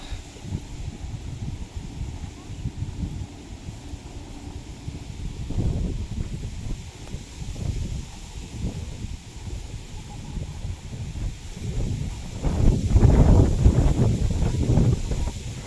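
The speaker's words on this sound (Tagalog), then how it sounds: "Sobrang hangin. Kahit po sobrang init dito, mahangin pa din." Strong wind buffets the microphone in low, rumbling gusts that swell and fade, growing loudest near the end, on hot, open land in Pililla, Rizal, Philippines.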